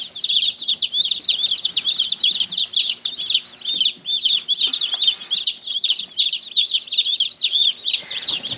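Young meat chickens in a backyard brooder chirp and cluck continuously, a dense flock of high peeping calls close by, steady throughout with brief dips, no talking.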